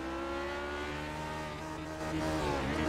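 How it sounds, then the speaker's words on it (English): A race car engine drones at high pitch during a classic series race, its revs holding steady, then surging upward near the end as the driver misses a shift, the whine climbing and growing louder. "You could just hear the revs just spiking on that car"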